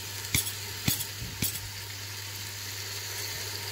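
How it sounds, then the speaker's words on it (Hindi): Tomatoes and beef fry in a pan for a beef and potato curry, giving a quiet, steady sizzle with three distinct spoon scrapes or clinks close together at the start. "अब इसे 5 से 7 मिनट भूनना है, हमारे टमाटर अच्छी तरह से गल जाएं"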